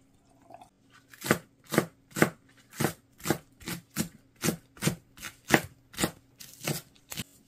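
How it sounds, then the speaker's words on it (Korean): Cheongyang chili peppers are finely chopped with a knife on a board, about fourteen crisp, even strokes in a steady rhythm, close and distinct with quiet gaps between. "청양고추는 잘게 썰어서 넣어줍니다."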